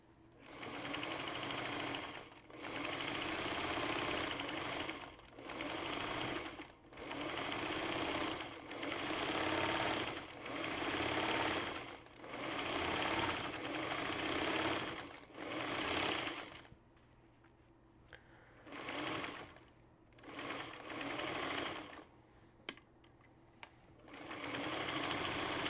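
A sewing machine stitches along the bottom edge of a quilt top in a long run of steady whirring bursts with brief stops, then shorter, quieter spurts toward the end.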